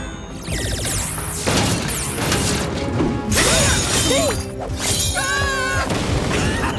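Cartoon stage lights crash down and shatter, with a loud burst of smashing glass and clattering debris amid busy animated music and effects, dense and continuous throughout.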